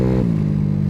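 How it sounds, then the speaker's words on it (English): Close, loud droning of a 50cc big-bore scooter engine held at wide open throttle while climbing an overpass, a steady buzzing tone that settles after a brief shift in the first moment. "See, now I'm wide open throttle."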